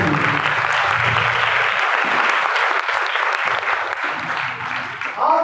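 A church congregation at an Easter service claps loudly and steadily, the applause filling the room and tapering slightly near the end.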